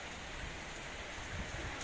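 Light drizzle falls steadily, making a faint, even hiss of rain with no voices over it.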